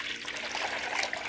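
Warm water trickles and splashes steadily as it is poured to rinse leftover sugar while making mead, a short continuous liquid pour with no talking.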